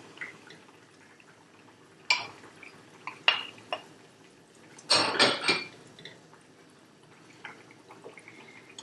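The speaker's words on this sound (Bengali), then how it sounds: "এরপর আমরা মাছ দিয়ে দিব।" Pieces of rui fish going into a pot of yogurt curry: scattered clinks of utensils against the pot, a wet splashing burst in the middle, then soft drips and small knocks, close but fairly quiet.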